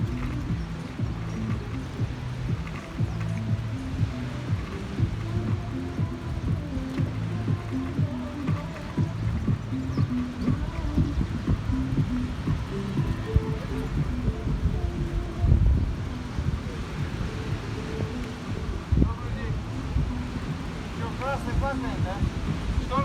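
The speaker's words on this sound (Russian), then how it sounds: "на море шторм." A stormy Black Sea surf rolls onto Anapa beach, with a constant roar of waves and buffeting wind noise on the microphone, loud and steady throughout and no clear talking.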